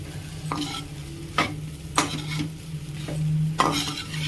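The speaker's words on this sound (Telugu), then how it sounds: "ఇట్లా కలిపేసుకుంటే మీకు colourful egg fried rice and simple egg fried rice ready అవుతుంది" Egg fried rice is stirred and tossed in a hot pan, with several sharp scraping strokes of a utensil against the metal over a continuous low sizzle, heard up close.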